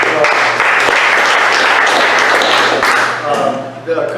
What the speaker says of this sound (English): So, Bennett Brown, let's give him a round of applause.